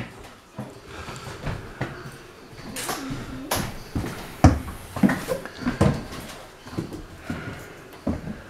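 The door of an old bus at the Manchester bus museum makes irregular clunks, knocks and rattles, some sharp and loud, spread across the clip with quieter handling noise between them.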